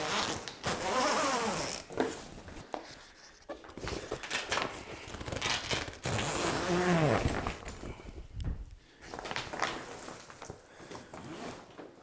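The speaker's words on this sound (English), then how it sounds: "we're gonna zip off the roof." A zipper being drawn around the fabric roof of a Gorilla Grow Tent during takedown, long rasping pulls repeated several times with brief pauses, close and fairly loud.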